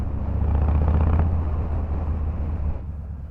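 Harley-Davidson Fat Boy 114 motorcycle engine running, a close low throbbing rumble that swells briefly and then settles and fades toward the end.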